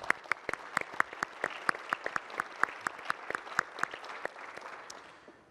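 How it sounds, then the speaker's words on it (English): Audience applause at a 2015 AMSUS annual continuing education meeting, a few loud, distinct hand claps in quick rhythm over a softer clapping crowd, gradually thinning and fading out toward the end. "Let's give him a round of applause."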